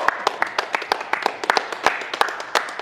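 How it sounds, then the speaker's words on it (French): A small crowd inside a Decathlon store claps steadily for the winning country, with quick, distinct hand claps at a close, moderate level and a voice heard faintly among them. "Et on l'applaudit bien fort."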